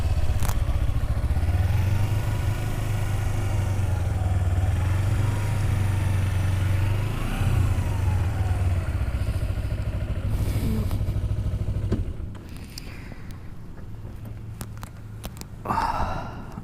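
Kawasaki Ninja 250R (EX250) motorcycle pulling away, its steady low engine drone loud at first, then dropping and fading after about twelve seconds with a brief rise near the end.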